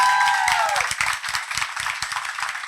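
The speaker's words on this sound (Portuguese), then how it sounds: "Podem bater palmas, Dora" An audience claps in a burst of applause that starts full and gradually thins into scattered claps, with a brief tone fading out at the start.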